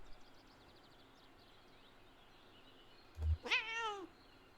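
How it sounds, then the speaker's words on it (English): A cat meows in the video game Kentucky Route Zero: a single rising and falling call, clear and close, near the end of a quiet stretch of faint ambient background. "Curious meow."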